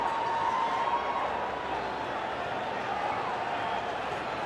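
A cricket stadium crowd cheers and chants after a six by Yuvraj Singh, a dense, distant roar of many voices that holds steady beneath a commentator's voice.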